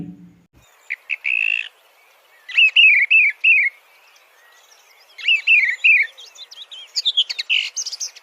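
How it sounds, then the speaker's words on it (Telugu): Clear, bright bird song in short melodic phrases separated by pauses, a few rising and falling whistled notes repeated in bursts, heard alone. "థ్రష్ అనే పక్షులు కూడా మధ్య మధ్యలో గ్యాప్ తీసుకుంటూ ఎంతో అందంగా పాడతాయి"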